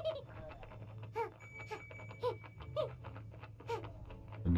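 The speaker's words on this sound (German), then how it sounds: "mich nervt diese blöde Klingel." A repetitive chiming bell in the video game Yooka-Laylee rings in a steady pattern of bright tones over soft game ambience.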